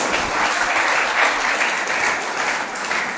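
An audience at an evening poetry gathering honoring the poet Akram Jaunpuri breaks into sustained, lively clapping that swells and eases slightly across the stretch, heard without voices.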